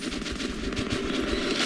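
Gunfire in the Metro 2033 video game, a dense burst of rapid automatic shots running steadily through the whole stretch at a loud, even level with no voices.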